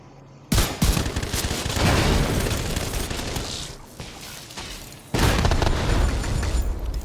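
Explosions and gunfire from the video game Division 2 on very hard challenge level: loud booming blasts and dense bursts of shots in two heavy waves, with a brief lull between them.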